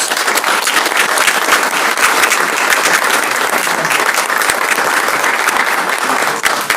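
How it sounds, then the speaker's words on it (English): A candidate forum audience gives sustained, loud applause for the candidates, thick continuous clapping filling the room from start to finish. "I hope our audience members will give our candidates a big round of applause."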